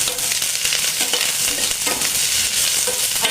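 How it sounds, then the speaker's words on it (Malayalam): Vegetables fry and sizzle steadily in a hot pan, a dense continuous crackle with occasional stirring scrapes, close and fairly loud with no talking. "ഇനി നമുക്കതൊന്ന് ചെറുതായിട്ടൊന്ന് മൂപ്പിക്കാം."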